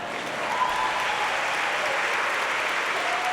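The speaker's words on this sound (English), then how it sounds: "I need applause to making it all the way up here in 75 seconds." A crowd at an awards ceremony claps steadily in a dense, continuous wash of applause that holds at an even level throughout.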